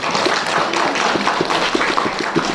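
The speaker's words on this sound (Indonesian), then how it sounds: "kita berikan tepuk tangan." An audience at a coffee-marketing workshop in Trawas claps together in a quick burst of overlapping hand claps, fairly close and lively, fading slightly toward the end.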